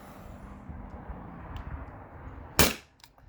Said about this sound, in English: So here's the first shot on CO2, 12 gram CO2.